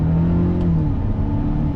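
A 2020 Mercedes-Benz SLC 300 engine pulling hard in first gear, a loud continuous drone with the pitch climbing through the rev range, heard close from the cabin.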